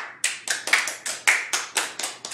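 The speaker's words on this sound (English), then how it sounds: "Give them a round of applause." Talk-show audience clapping, a sparse series of about nine distinct, evenly spaced claps in a quiet room, close and crisp with no voices, more like a few hands than a full crowd.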